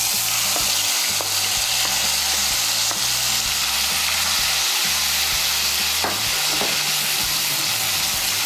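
Tomato, onion, garlic and ginger paste sizzles steadily in hot oil for a dhaba-style egg masala curry, a loud continuous frying hiss broken by occasional stirring scrapes, with no one speaking.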